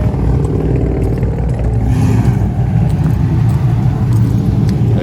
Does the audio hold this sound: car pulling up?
yes